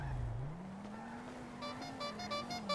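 A car drifts in the GTA RP game, its engine tone sliding up and down beneath a faint, thin tire squeal that lasts a few seconds at low volume.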